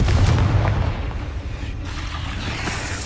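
A Confringo fire spell explodes in Hogwarts Legacy gameplay on PS5, a heavy booming blast at the start fading into a rumbling tail.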